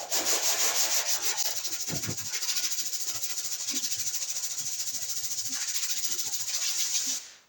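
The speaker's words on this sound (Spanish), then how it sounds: "Puedo lijar en redondo" Steady, close-up rasping of sandpaper rubbed back and forth over body filler on a car's hail dents, continuous for several seconds with a bright scratchy texture.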